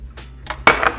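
A dinner fork scrapes and clinks against a bowl while mixing batter with melted butter for chocolate caramel bars, a short burst of close, bright metallic clatter.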